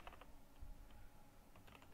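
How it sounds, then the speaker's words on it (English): Someone types code on a computer keyboard: a quiet run of scattered keystrokes in short clusters, close and faint, with no talking. "I'm gonna type some code again."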